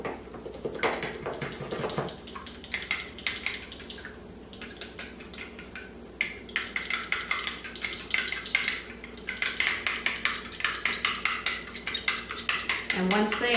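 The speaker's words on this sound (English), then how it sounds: "I'm going to whisk them until they're mixed." A whisk beats two eggs with grated orange zest in a bowl, making rapid, close metallic clatter in fast bursts with short pauses between them.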